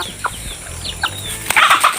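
Several chickens cluck in short bursts close by, with a brief flurry of sharper calls near the end; no one speaks.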